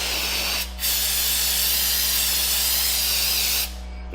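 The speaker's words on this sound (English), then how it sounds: "And then we'll finish it off with some brake clean." Brake cleaner sprays onto disc brake parts in two long, loud, steady hissing bursts close by, with a brief gap between them over a low constant hum.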